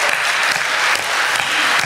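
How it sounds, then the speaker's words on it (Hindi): Loud, dense applause from a large crowd at a live poetry performance, steady and close, filling the whole short stretch without a break. "क्या आपकी तालियां कमजोर है मेरे भाई।"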